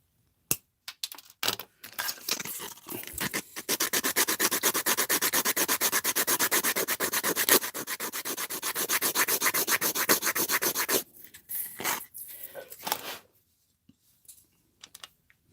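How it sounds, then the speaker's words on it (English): Plastic pipes being cut off a model car kit sprue, a rapid rasping saw-like stroking that runs several seconds, then shorter scraping bursts and small clicks, close and alone. "I'm going to cut these pipes off right here."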